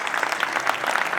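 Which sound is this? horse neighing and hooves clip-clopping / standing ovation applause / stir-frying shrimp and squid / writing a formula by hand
standing ovation applause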